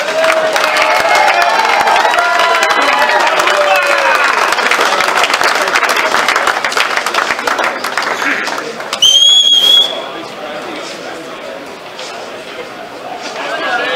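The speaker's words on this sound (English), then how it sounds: "Vince, can you clap please?" Crowd at an Australian blackball pool teams final applauding and cheering, loud sustained clapping with chatter and a sharp whistle near the end, then fading as talk continues.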